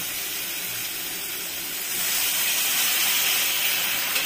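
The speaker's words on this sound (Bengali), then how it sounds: "এই পর্যায়ে এখন আমি জল দিয়ে দিব" Water is poured into a hot pan of dal vada gravy, letting out a steady steam hiss that swells louder about halfway through and holds there, close and with no talking.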